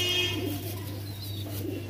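Pigeons at a pigeon farm give soft, low cooing over a faint steady hum, close and quiet, with no other sounds standing out.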